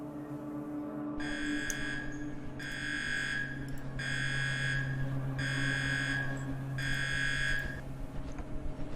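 An alarm in the UnderRail video game blares steadily in five regular pulsing buzzes over a constant low hum and background drone, moderately loud with no speech.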